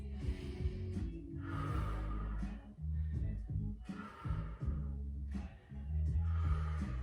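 Deep, slow breaths drawn in and pushed out during a mobility stretching session, several long audible inhales and exhales close by, with background music running underneath.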